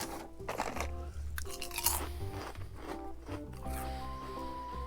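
Tomato-flavored potato twist crisps are crunched close to the mic, with repeated crisp bites and chewing over a few seconds, no talking.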